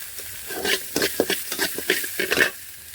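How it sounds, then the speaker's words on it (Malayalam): Sliced onion and green chili frying in a pan for carrot rice, crackling sizzle broken by repeated scraping stirs in an uneven rhythm, close and fairly loud, with no voices. "സവോള ചേർത്ത് കൊടുക്കാം. പച്ചമുളക് ചേർത്ത് കൊടുക്കാം."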